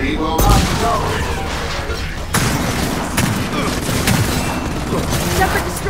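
Frag grenade explosions and gunfire in Gears of War 4, with a sharp blast near the start and another heavy burst midway over a dense, continuous wall of combat noise; voices are heard amid the fighting.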